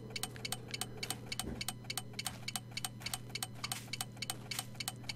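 A bomb timer ticks in a regular, even rhythm in the survival game 7 Days to Die, Starvation mod, with clear sharp clicks repeating over a steady low hum and no voices.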